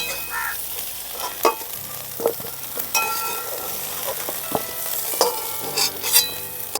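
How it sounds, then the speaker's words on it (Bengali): Cauliflower pieces fry in hot oil in a covered pan, then get stirred, giving a steady sizzle broken by repeated scraping and clattering strokes, close and fairly loud, with no talking. "ফুলকপিগুলোকে ঢাকা দিয়ে লাল করে ভেজে নেব, যাতে সেদ্ধও হয়ে যায় আর ভাজাও হয়ে যায়"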